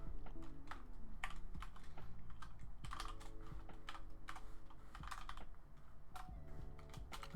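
Rapid, uneven clatter of keys as code is typed on a computer keyboard, with occasional harder enter presses, close and fairly quiet over a low background hum.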